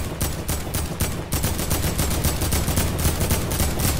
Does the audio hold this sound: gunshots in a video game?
yes